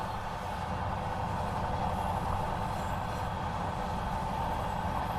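Heavy 1,600-ton freight train of multiple-unit locomotives in notch 8 in Train Sim World 2, a steady, loud diesel drone and rumbling rail noise held throughout with no talk.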